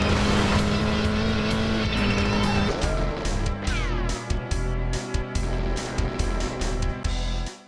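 Sega Rally on the Sega Saturn plays loud, continuous racing-game engine roar with rising and falling revs, tire squeals and skids, over game music, up close and dense throughout.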